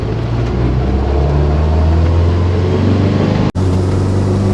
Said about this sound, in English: it's the roar of that engine